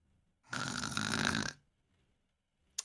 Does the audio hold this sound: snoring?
yes